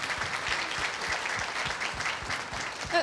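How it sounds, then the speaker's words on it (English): Audience applause for panelist Carol at a panel discussion on palliative care for people with dementia, a steady dense crowd clapping that holds for the full stretch without talk. "Would you give her a round of applause?"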